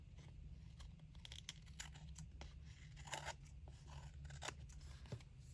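Scissors trim paper overhang from a junk-mail tri-fold pocket folio in a junk journal craft, giving a series of crisp, close snips in an uneven rhythm over a low steady background hum.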